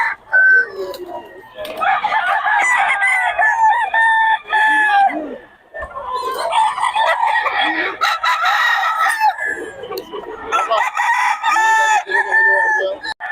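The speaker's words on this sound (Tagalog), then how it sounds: "Black hen, eh." A black hen makes loud, close, drawn-out clucking and squawking calls in several long bursts separated by brief pauses, with other birds audible faintly behind.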